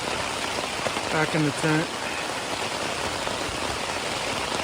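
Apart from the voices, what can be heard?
heavy rainstorm on tent in Alaska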